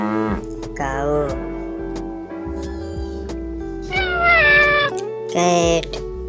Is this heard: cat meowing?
yes